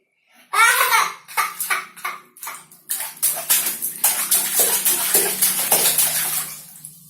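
A small child being bathed, with rapid bursts of close splashing that come in quick repeated strokes, then a steadier run of splashes. A voice babbles now and then.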